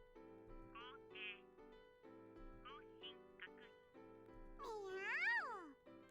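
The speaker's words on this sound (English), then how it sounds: "At my feet, the cat meows proudly" Cartoonish cat meows from the video game Totono, several short rising-and-falling mews over a steady musical backdrop, ending in a longer, louder warbling cry.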